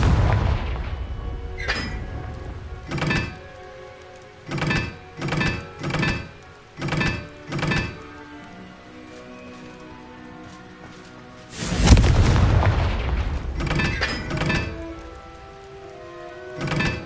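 Confringo explosive spell in a video game, a series of booming blasts in short bursts, then one longer, heavier explosion that trails off into rumbling impacts.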